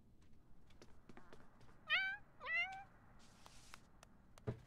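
A cat meows twice in quick succession, clear and fairly close, with quiet household background noise and a faint tap near the end.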